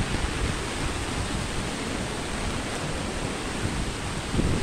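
Strong floodwater rushes through a canal during heavy rain and wind in Sunvalley, Parañaque, a loud, dense, unbroken roar that fills the whole stretch without pause.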